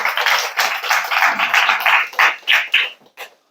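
An office staff audience at a company awards gathering claps for their office manager. Loud, lively applause rolls on, then breaks into a few separate claps and fades to silence.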